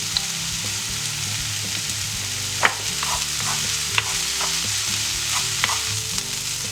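Chopped garlic fries with softened eggplant in a pan, a loud, steady sizzle broken by a few sharp clicks of stirring, with no voices.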